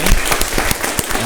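Audience clapping, a brief, steady burst of many hands applauding loudly and close, with no speech over it.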